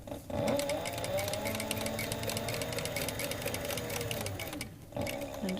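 A sewing machine stitching leather runs steadily for several seconds in a fast, even mechanical patter, close and clear, slowing briefly near the end before picking up again.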